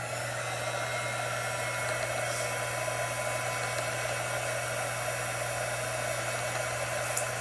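A hair dryer blows continuously on a chalk craft piece, a steady loud whooshing hum with a constant motor drone throughout, no talking.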